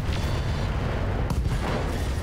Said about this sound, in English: very dead Orion due to an AC-10 ammo explosion